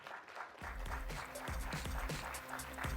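An audience at a talk on social analytics claps, starting from near silence and building into steady, fairly light applause with individual hand claps distinct, the crowd loosely together and moderately close.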